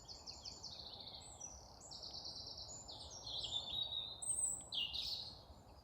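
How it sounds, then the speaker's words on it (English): Birds sing and chirp continuously in bright, overlapping high calls over a steady low background hiss, growing a little louder toward the end, with no talking. "Listen to the birds."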